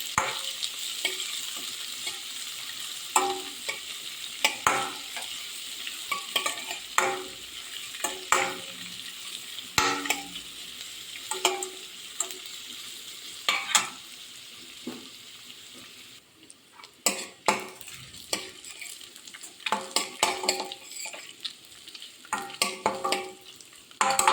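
Finely chopped shallots being stir-fried in a pan sizzle steadily while a spoon scrapes and knocks against the pan in repeated sharp strokes, close and fairly loud, with no talking.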